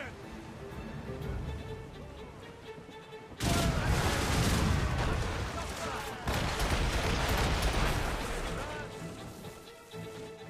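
Ship-mounted puckle guns, 18th-century machine guns on the Morrigan in Assassin's Creed Rogue, open up with a loud, dense barrage of rapid gunfire and booms that bursts in after a few seconds of quieter game ambience and keeps rattling to the end.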